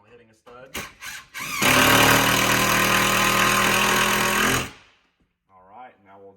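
A power drill drives screws into a wall stud while a gun display wall goes up in a vault, giving one loud, sustained high whirring burst after a few short bursts, with faint talk afterward.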